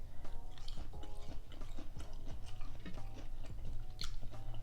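Crispy fried okra from a gas station is chewed close to the mic with rapid, wet crunching bites, steady and loud with no talking.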